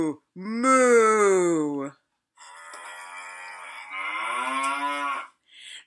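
A human voice imitates a cow with long, drawn-out moos. There are two loud, close sustained lowing calls with a short pause between them.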